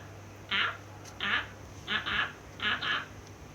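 A person imitates a duck during Minecraft play, giving five short nasal quacks in quick, uneven bursts over a quiet background hum.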